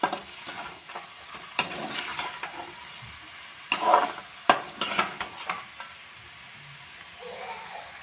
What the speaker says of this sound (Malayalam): എന്നിട്ട് നല്ല പോലെ ഇളക്കി കൊടുക്കുകയാണ്.